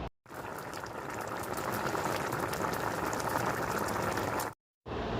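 Fish and mango curry simmers in a pot, a steady bubbling hiss that runs evenly for several seconds before cutting out briefly and resuming.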